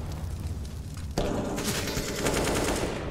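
Mag 7 shotgun fire in Counter-Strike: GO on the Nuke map during a tournament match, a sudden loud blast followed by dense booming gunfire and reverberating shots, close and heavy with no talk.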